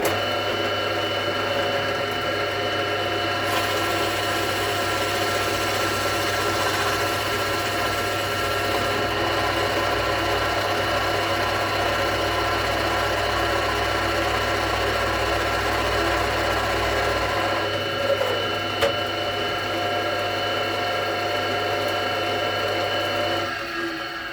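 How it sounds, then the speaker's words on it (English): A steady mechanical drone of a power drill boring overlapping holes through wood with a Forstner bit for a guitar body, running continuously and fairly loud, with a brief change in tone near the end. "so I just drill a load of holes now"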